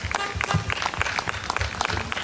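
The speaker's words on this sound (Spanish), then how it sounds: "Denle un aplauso fuerte al Señor en esta hora." A church congregation claps together in a loud, steady burst of applause with a few voices mixed in, short and continuous.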